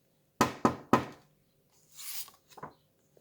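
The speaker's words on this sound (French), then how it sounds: "Il frappa à la porte." Three firm knocks on a wooden door in a children's fairy-tale story, close and evenly spaced, followed by a soft rustle and brief shuffling.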